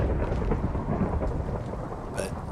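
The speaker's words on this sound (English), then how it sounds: "waited for lightning to strike" Thunder rumbles from a lightning strike on a copper structure topped with lightning rods in Minecraft. The deep rolling roar mixes with steady rain and a brief brighter crack near the end.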